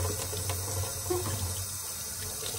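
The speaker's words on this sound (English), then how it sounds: "So I just rinsed the little berries out." A kitchen tap runs steadily as berries are rinsed for a smoothie, a continuous close hiss of flowing water with no talk.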